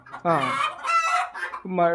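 Native country chickens on a poultry farm clucking loudly and close by, a run of harmonic squawks and clucks with a short pause before another burst.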